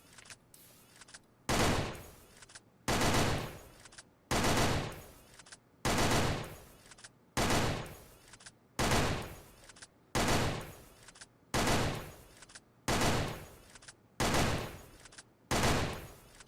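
Rapid automatic gunfire in the Sudden Attack shooter game, fired at a wall in about a dozen evenly spaced bursts of roughly a second each, loud and close with short silences between.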